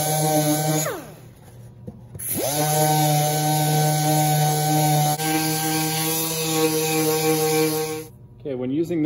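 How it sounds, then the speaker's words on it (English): A handheld router with a ball-bearing bit cuts a binding recess around a ukulele body, a loud close steady whine that runs for several seconds, winds down, then spins back up. "when using this router here, again, just make sure that little ball bearing will rub on the outside all the way around"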